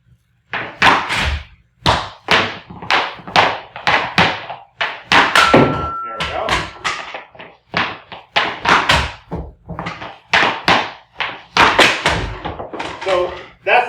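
Ice hockey outside-leg snap shots fired at targets, a long run of sharp stick-on-puck cracks and thuds against the targets, about a dozen hits at uneven intervals, loud and close.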